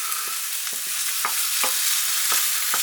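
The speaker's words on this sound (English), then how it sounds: "I just want to stir and fry that for about a minute." Celery and carrots sizzling in a hot pan with steady frying hiss, broken by several sharp scrapes and clicks of stirring at a regular pace.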